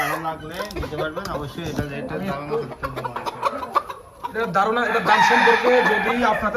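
A rooster crows loudly on a poultry farm among other fowl clucking nearby, with someone talking over the calls in short bursts.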